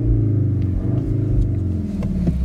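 A 2021 Cupra Formentor engine idles and revs in Cupra mode, its exhaust burbling with a steady low rumble, loud and close, alone without talk.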